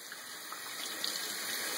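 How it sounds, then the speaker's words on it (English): Tap water running steadily into a kitchen sink during drain cleaning, a continuous broad hiss and splash, close and even throughout with no voices. "I'll let this water run."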